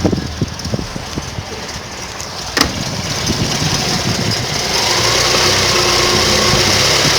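An FSO 125p (Kazik) car engine idling unevenly while still cold, with a loud, close, continuous mechanical rumble and irregular knocking pulses early on, then a steadier, rising drone with a brief sharp click midway.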